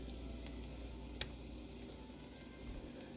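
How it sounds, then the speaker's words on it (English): Butter and garlic sizzling in a pan on a stovetop, a faint, steady crackling fry with a few small pops, heard alone. "the butter is sizzling, and so aren't the garlic"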